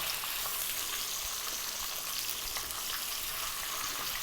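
Mackerel fillets fry in a pan over above-medium heat, giving a dense, continuous crackling sizzle that stays steady and close throughout, with no talking.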